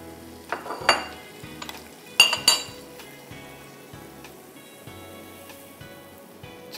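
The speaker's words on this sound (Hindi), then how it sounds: "इसमें हम 1 किलो चिकन डालेंगे।" A kilo of chicken goes into a hot pot and fries with a steady sizzle, broken by several sharp clinks and scrapes of a spoon against the metal, close up with no talking.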